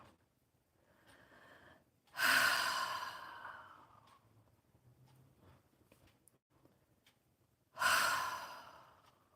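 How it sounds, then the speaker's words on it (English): Two deep, breathy exhalations, each swelling suddenly and trailing off slowly, spaced several seconds apart with faint quieter breathing between them, close and alone. "And now you hear a sound, a breath sound."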